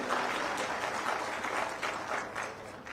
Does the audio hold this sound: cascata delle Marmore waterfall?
no